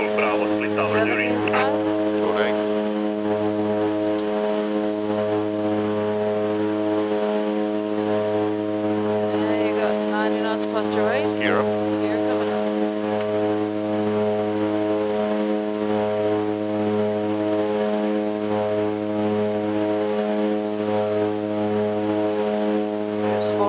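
A seaplane's engine and propeller drone steadily and loudly at takeoff power over Croatia, heard from inside the cockpit, with a pulsing low throb, while radio and cockpit voices talk over it.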